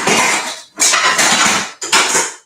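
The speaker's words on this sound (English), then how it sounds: "I think we're going to grab another frying pan." Metal frying pans clatter and scrape together in a kitchen during chili con carne and taco preparation, three bursts of sharp clanging close to the microphone with brief pauses between.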